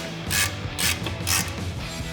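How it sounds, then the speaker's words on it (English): A ratchet with a 22mm socket tightening caliper bracket bolts on a 2019-2024 RAM 2500 brake job, heard as three short bursts of rapid clicking, close up, spaced evenly over a low background hum. "we'll grab our 22mm socket on our ratchet and tighten these back down"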